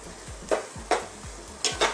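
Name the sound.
stirring sautéed mung bean dish in a pan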